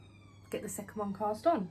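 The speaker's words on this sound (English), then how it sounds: "Sorry about the siren in the background." A siren wails faintly in the background while a person speaks close by.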